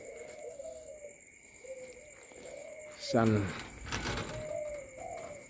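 Large pigeons coo on a Vietnamese bird farm with repeated soft, low calls through the stretch, while someone talks over them and a brief knock or clatter lands near the middle.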